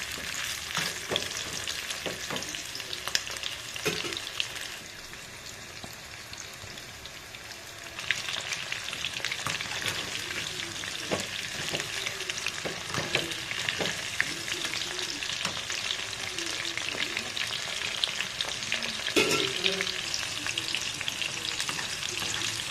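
Chicken kabab frying in a pan over a medium flame, with a steady crackling sizzle and repeated scraping stirs, close and continuous for the whole stretch, with no talk.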